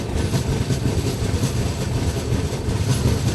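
The 02564 New Delhi–Barauni Clone Special train runs on rails, a loud, steady rumble with rhythmic clatter of wheels heard from on board, continuous throughout.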